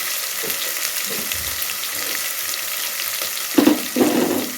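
Kurma ingredients sautéing in a pan give a continuous close sizzle, with a few louder stirring scrapes and clatters toward the end.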